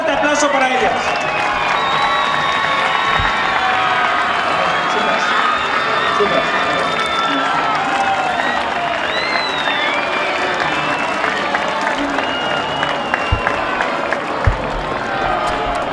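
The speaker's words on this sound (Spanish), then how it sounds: "un fuerte aplauso para ellas" Festive crowd at a town fiesta in Galapagar applauding and cheering for honored girls, a continuous mass of clapping with shouts and whistles, children's voices and chatter mixed throughout.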